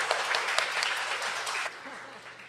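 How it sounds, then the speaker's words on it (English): An audience at a nursing-career talk breaks into full, dense applause that holds steady for well over a second, then thins out and fades to a few scattered claps. "let's give her a big round of applause"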